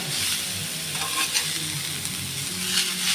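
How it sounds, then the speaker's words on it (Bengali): Potatoes sizzle steadily in hot oil in a pan, a continuous close crackling hiss with occasional stirring scrapes. "আলু ভাজি যেরকম সেরকম ভাবে ভাজ"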